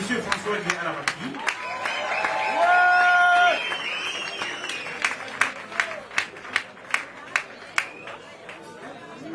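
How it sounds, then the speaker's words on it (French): A funk concert crowd applauds the drummer, with a murmur of voices and a swelling burst of clapping that thins into a handful of distinct, spaced claps near the end. "Et moi, je vous applaudis."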